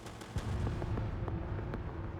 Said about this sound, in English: We can do a grenade to finish him though.